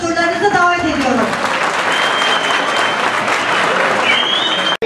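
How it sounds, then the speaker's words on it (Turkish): A crowd at a community evening gathering breaks into loud, sustained applause welcoming the mayor, with a few voices rising over the clapping before it cuts off abruptly. "Ve alkışlarınızla Belediye Başkanımız Muzaffer Yalçın'ı huzurlarınıza davet ediyorum"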